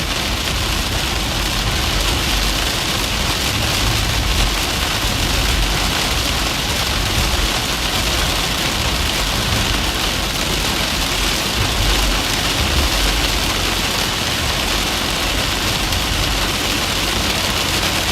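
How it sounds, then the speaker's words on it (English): Hail pours down in a supercell storm near Clovis, California, a dense, steady roar of countless impacts that holds at a loud level for the whole stretch, with no voices. "We got hail. Big time hail intercept."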